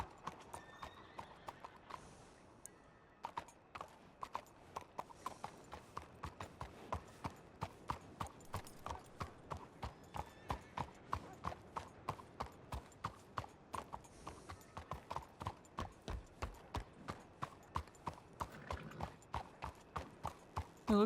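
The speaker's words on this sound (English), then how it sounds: "It looks like Mila's horse." Horse hooves clip-clop steadily on ground in RedM WildRP, a Wild West video game, a long even rhythm of close, fairly quiet footfalls with a brief whinny partway through.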